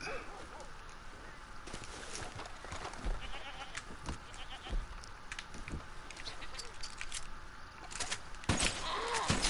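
Goats bleat repeatedly in the open-world game Red Dead Online, several cries overlapping amid busy outdoor game ambience, with a louder burst near the end.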